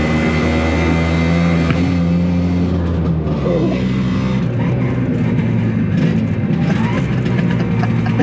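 A small Italian vehicle's engine pulls away with a loud, continuous buzzing drone close by that holds steady throughout.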